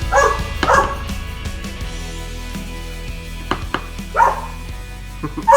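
A dog barks in short, sharp bursts spread across the moment, close by, with some clattering in between.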